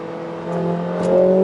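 A 2021 Mercedes-AMG A45 S hatchback with a 422 hp engine accelerates hard. A steady, loud engine drone climbs in pitch and swells near the end, with no voices.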